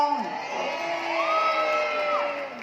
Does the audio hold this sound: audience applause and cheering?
yes